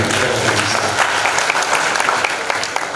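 An audience at a gathering applauds loudly and continuously, a dense steady patter of many hands clapping close by for the whole stretch.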